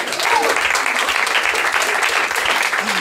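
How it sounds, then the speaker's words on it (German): A stand-up comedy crowd applauds in a club, a dense steady wash of clapping with a brief voice near the start, lasting about three seconds. "Applaus für Alex und Kichererbsen."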